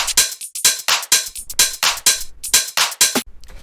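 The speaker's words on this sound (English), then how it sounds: "so then we have the percussion, which sounds like this." A deep minimal house percussion loop: crisp, punchy hits repeat in a steady, driving rhythm, loud and close, with brief gaps between the bright bursts.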